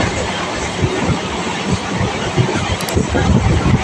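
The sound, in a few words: Lakshmikantapur local train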